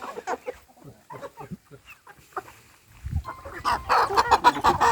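A breeder hen of good stock, two and a half to three years old, clucks in short bursts close by on a farm, with louder clucking and farmyard noise toward the end.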